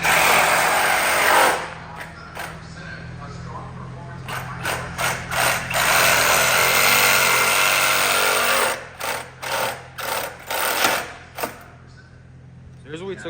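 A power tool cuts through car intake parts during a G37 intake install, a loud continuous whine broken by repeated short bursts and pauses near the end, with people talking nearby.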